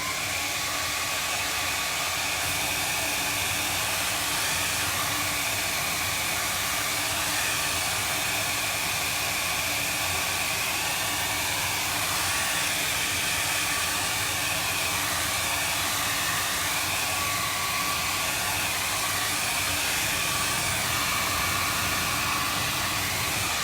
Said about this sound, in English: let me hit it with a dryer